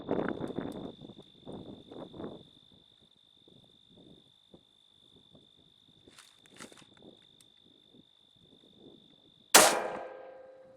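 A single loud shot from a Remington 770 rifle cracks near the end, after quiet footsteps and a steady insect drone in the background.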